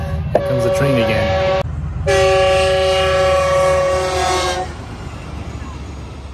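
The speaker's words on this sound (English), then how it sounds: "Here comes the train again." A train rumbles past with a loud, sustained horn blast sounding twice, the steady rolling noise lingering under casual outdoor voices.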